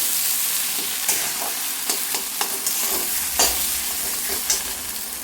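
Potol bharta with fried chilli, onion and salt is stirred in a hot pan, a soft frying sizzle punctuated by several sharp spatula scrapes and knocks, close and without speech.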